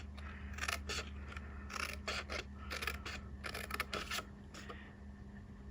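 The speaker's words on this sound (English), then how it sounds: "I need to come up here and cut the first score line" A blade draws a score line across a paper box lid, a quiet series of short scratchy strokes in an uneven rhythm over a low steady hum.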